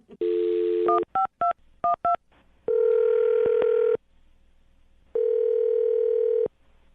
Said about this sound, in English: I'm going to dial his phone number, okay?